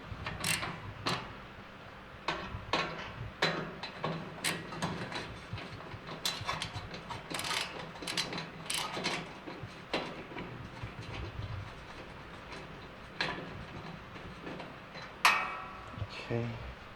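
Metal clicks and ratcheting while bolts are tightened during assembly of a Char-Broil Performance four-burner gas grill, sharp irregular taps repeating close by at low volume.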